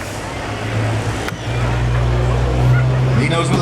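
A super stock pulling tractor's engine revs at a county fair tractor pull in Chatham, New York. A loud, deep, steady drone briefly dips and then builds back up as the throttle opens.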